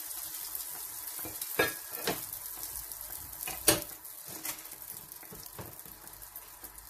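Sfenj dough sizzling and crackling in hot oil, a steady fry hiss with sharper pops and stirring scrapes scattered throughout, close and moderately loud with no talking.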